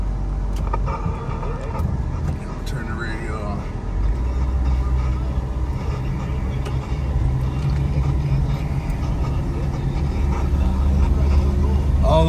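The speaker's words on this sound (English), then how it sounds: "So we'll take this for our test drive." A 1958 Chevrolet Impala on a test drive, its engine and road noise making a steady low rumble from inside the cabin while people talk over it.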